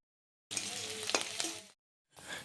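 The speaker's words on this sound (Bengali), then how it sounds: "কড়াইয়ে তেল দিয়ে দিয়েছি সর্ষের তেল দিয়েছি ফার্স্টে পেঁয়াজ কুচি আর রসুন কুচি দিয়ে দেব" Chopped onion and garlic sizzling in mustard oil in a wok, a loud close crackling hiss with stirring scrapes, cutting off briefly before resuming.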